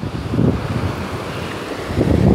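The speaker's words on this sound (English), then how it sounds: "So look at all these waves." Wind rushes over the microphone at a beach while ocean surf washes in, a low roaring texture with swells near the start and rising again toward the end, with no voices.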